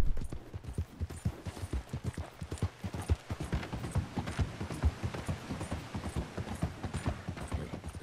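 A horse ridden in Red Dead Online clip-clops steadily along, hoofbeats close and rhythmic with a faint mechanical rattle in the background and no talking.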